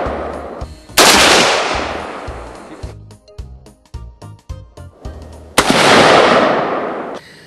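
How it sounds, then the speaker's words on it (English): A rifle fires outdoors in loud cracks with booming echoes: one shot with a long decaying tail, then a rapid burst of pops, then another single heavy report ringing out. "All right, I'm just gonna shoot single shots now."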